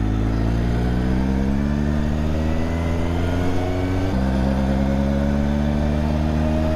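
A Honda CB750 K project motorcycle's four-cylinder engine drones steadily while riding, its pitch climbing under throttle, dipping briefly at a gear change, then rising again, loud and close.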